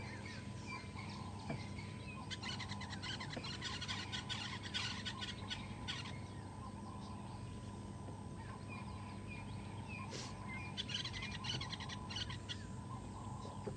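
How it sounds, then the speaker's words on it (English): Red-billed buffalo weavers give busy chattering calls on a morning safari drive, bursts of harsh notes repeating over a steady low hum, with other birds chirping in the background. "Red-billed buffalo weavers, this sort of chattery sound you heard there."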